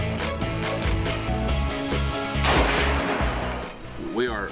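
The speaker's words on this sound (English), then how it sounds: "let's put some down range and see where this thing shoots" Rifle shots fired down range while sighting in a new rifle at a shooting range: loud, sharp blasts over a dense, sustained background, followed by a brief voice at the end.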